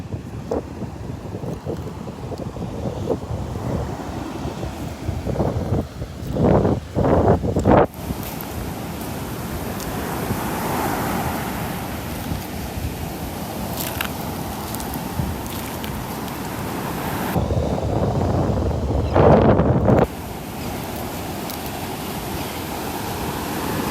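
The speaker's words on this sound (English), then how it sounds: "Bowman's Beach, Sanibel Island, if you're wondering where we're at." Wind buffets the microphone while surf rolls in along the shore at Bowman's Beach on Sanibel Island, a steady broadband roar with louder gusts, no voices.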